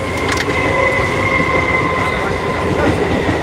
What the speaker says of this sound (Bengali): পাশ থেকে ট্রেন যাচ্ছে